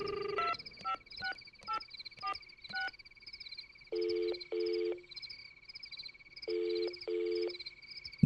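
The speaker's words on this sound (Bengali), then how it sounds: "ফোন তুলে ডায়াল টোনই পাওয়া গেল।" A telephone tone plays in a radio drama, with a steady high tone running throughout under a sequence of short beeps and longer buzzing pulses.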